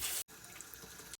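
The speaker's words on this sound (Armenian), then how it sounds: "Լավ տեղին լվանում ենք սունկը։" Water from a kitchen tap runs steadily while mushrooms are washed under it, a soft continuous rush with a brief break near the start and end.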